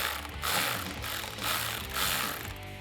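A ratchet on an 8mm socket clicks steadily while loosening the throttle body clamp on a 2019-2022 Silverado 5.3L, a dense, continuous close-up pawl chatter with slight rhythmic swells.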